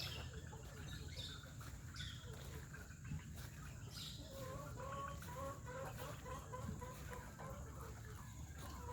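Brooding hens clucking softly and repeatedly in a quiet poultry shed, short clucks in a loose rhythm, with faint insect and bird sounds in the background.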